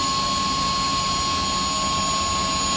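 Twin turbine engines of a CH-47D Chinook helicopter spool up in the X-Plane 11 flight simulator, a loud continuous whine with a steady high tone over a dense roar, with no voices.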